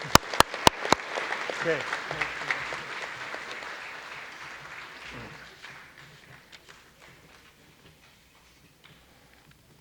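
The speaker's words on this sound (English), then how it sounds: "let's give them one more round of applause" An audience at a 2019 Indian Education graduation ceremony claps with lively applause that starts strong and gradually thins to scattered claps, while a voice briefly speaks over it.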